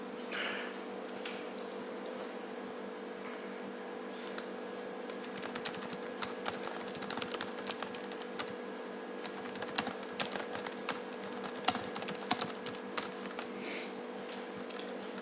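Keys clatter on a computer keyboard while someone types replies to chats, a quiet, uneven run of taps that grows busier toward the end over a steady electrical hum.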